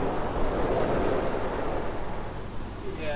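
Automatic car wash spraying water over a 1995 BMW 540i, a dense, roaring rush of water and spray heard from inside the car, steady and fairly loud throughout.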